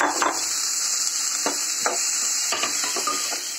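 Tender jackfruit frying with meat masala in a pan for a Kerala curry, a steady sizzle broken by several sharp scraping stirs of a spoon against the pan, close and fairly loud with no talking.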